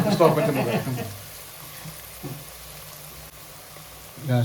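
Curry ingredients with turmeric powder and salt being sautéed in a pan, a steady low sizzle and stirring that continues quietly behind a woman's speech at the start and end.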